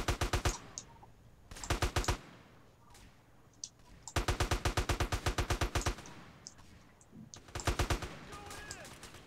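Bursts of AK-47 automatic fire in GTA San Andreas come in rapid rattling strings separated by short pauses, with faint game sounds in between.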